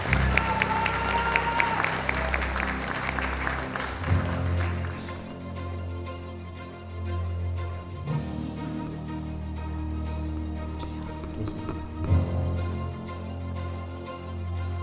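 An audience applauds the outgoing Queen of Zagreb at the Kraljica Zagreba 2024 pageant stage, a steady wash of clapping beneath loud music and an announcer's voice.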